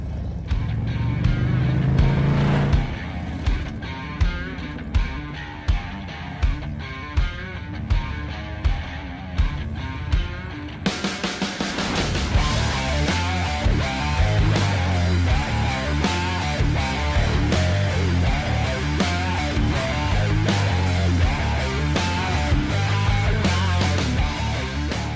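The exhaust of a 2023 Harley-Davidson Street Glide fitted with Khrome Werks pipes runs loud and full, with a rhythmic pulsing stretch that swells into a dense, continuous roar.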